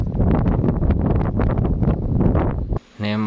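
Strong outdoor wind buffets a microphone during slingshot shooting in gusty conditions, a rough, loud rumbling that pulses unevenly for nearly three seconds before cutting off abruptly.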